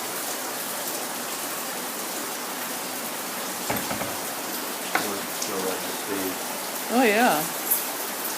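Water pouring steadily down beneath a house near a sump pump, a continuous rushing hiss that fills the scene, while a few brief voices speak over it.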